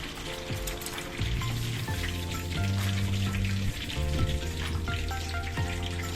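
Meat frying in hot oil in a pan for the Filipino dish dinakdakan: a steady, close, crackling sizzle throughout, with low sustained tones in the background and no talking.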